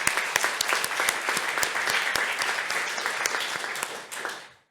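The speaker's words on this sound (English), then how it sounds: "So a round of applause for all of you as well." Audience applause for participants at the Safer Internet Forum 2022, a steady dense round of clapping from a sizeable crowd that fades out at the end.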